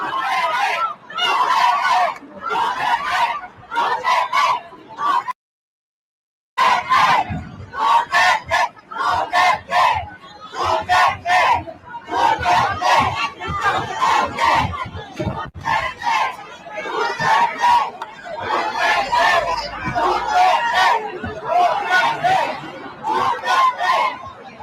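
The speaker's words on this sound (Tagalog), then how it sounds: "Sigawan natin kababayan, eh." A large Filipino crowd outside the ICC detention centre in The Hague shouts in loud rhythmic bursts of chanting and cheering, nearly continuous apart from one short break.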